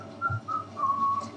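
A person whistles a short tune, a few clear, bright notes with small gaps, moderately near and alone with no talking.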